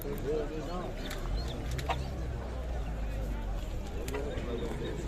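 Pigeons at a bird market in Kırıkkale coo in repeated soft, rolling phrases, mixed with market bustle and people talking nearby.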